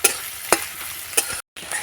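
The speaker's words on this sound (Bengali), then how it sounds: "একটা একটা কাঁচা লঙ্কা নিয়েছি কুচিয়ে একটুখানি আমি ভাজা ভাজা করে নেব" Finely chopped green chilli fries in a pan for an egg cutlet, with a close, bright sizzle broken by sharp spatula scrapes and stirring knocks, then a brief dead pause.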